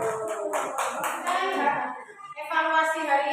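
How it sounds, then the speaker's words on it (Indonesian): A primary school Islamic religious education class claps for a group of classmates, several bursts of hand clapping mixed with children's voices, fairly close and lively, pausing briefly before resuming. "kasih tepuk tangan untuk kelompok 3"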